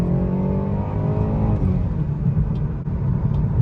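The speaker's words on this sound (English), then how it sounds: "let's just give it a quick launch while rolling" A tuned BMW B48 four-cylinder car launches while rolling in its lowest gear, with a loud, close engine note climbing steadily in pitch, then a brief dip as revs settle into a sustained drone.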